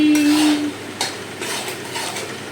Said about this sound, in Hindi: ये भून रही है हमारी सूजी